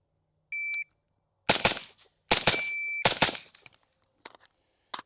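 Suppressed rifle fire through a flow-through suppressor: a short electronic beep, then a fast string of about five sharp, close shots in quick pairs, with a few faint clicks trailing after.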